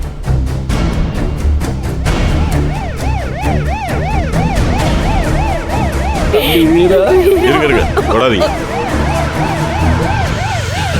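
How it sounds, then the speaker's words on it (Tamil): An ambulance siren wails with a rising and falling pitch, loud and steady, over heavy traffic and commotion. Voices shout urgently over it. "ஆம்புலன்ஸ் வந்திருக்குடி."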